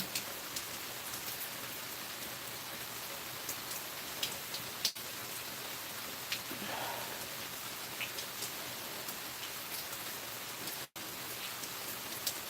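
Steady rain falling, a dense even hiss of drops with scattered brighter patters on surfaces, continuous and moderately loud with no voices.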